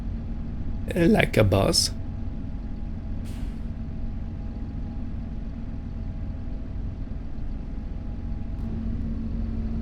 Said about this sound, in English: Okay, expertly reversing the trailer